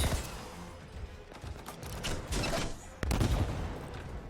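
A sniper rifle in the game Anthem fires several sharp, loud shots in quick succession amid mechanical clanks and a busy background of game noise.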